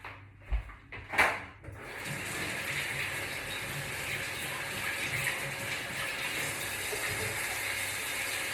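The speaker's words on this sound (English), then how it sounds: "I'm just going to wash my hands." Hands washed under a running kitchen tap: after a few brief knocks and clatters, water streams steadily and evenly for several seconds, close by, with no talk.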